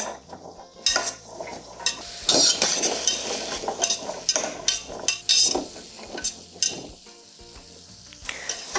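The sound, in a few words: onions and carrots sautéing in a pan, stirred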